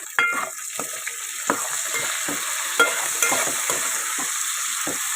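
Vegetables and green chillies stir-fry in a pan for moong dal rice under a steady sizzle, broken by repeated sharp scrapes and taps of a spatula against the pan, close and with no talking.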